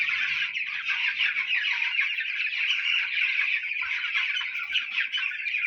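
Many chickens cluck and chatter together in a poultry breeding shed, a steady dense mid-pitched murmur from a large flock with no voices over it.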